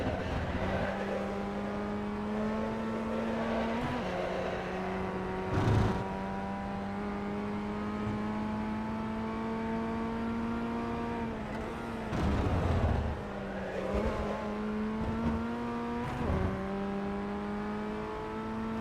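A Formula Ford 1600 race car drives laps of Lime Rock Park in the iRacing simulator, its engine droning steadily and rising through upshifts with brief drops at gear changes, alone and continuous.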